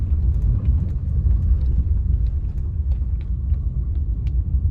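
Maruti car rolling over a broken road and a speed breaker, heard from inside as a steady low road rumble with faint scattered knocks and no talk.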